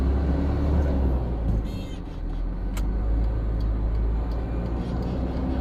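A car engine, just repaired to clear its faults, runs and revs in a steady, loud drone close by, with a brief lift in intensity partway through and no talk over it.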